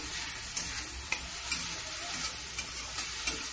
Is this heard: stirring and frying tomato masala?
yes